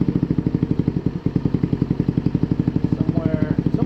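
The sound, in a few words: GY6 scooter engine idling during carburetor idle adjustment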